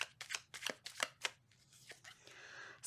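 Tarot cards shuffled by hand in a string of quick crisp riffles and slaps, close and clear, ending in softer rustling.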